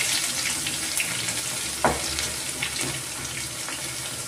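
Curry leaves, garlic and salt go into hot oil already tempered with cumin in a home kitchen, giving a steady close hiss and crackle with one brief sharper pop partway through.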